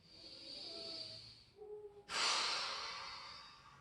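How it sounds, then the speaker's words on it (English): A slow, steady breath drawn in, then a loud, breathy exhale through the mouth, close and alone during a relaxation exercise. "Big breath in, and exhale through the mouth."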